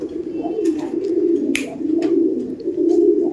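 Kabji pigeons in a loft coo in a low, throaty, continuous murmur close by, with a few faint chirps and rustles on top.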